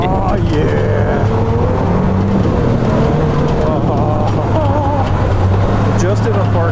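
Engine of a fast Can-Am or Polaris side-by-side UTV revving in a parking lot, a loud continuous drone rising and falling in pitch with throttle, with people talking over it.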